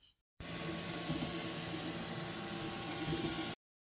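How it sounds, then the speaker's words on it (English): A 3D printer running a print of exhaust manifold model parts gives a steady, broadband mechanical whir and hum with faint tonal motor lines, close and continuous for about three seconds after a brief silent start. "I think now is time to fire up the printer and let's get cracking."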